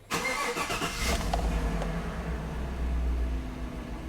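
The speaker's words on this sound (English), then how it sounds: "let's just take the key and we'll crank this thing" A Chevrolet Silverado pickup's engine cranks briefly and catches, then settles into a steady, loud idle, close up with no talking.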